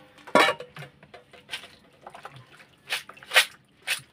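Short splashes and clinks of water draining from a pot of cooked clams, with a few metallic knocks of cookware, in scattered bursts.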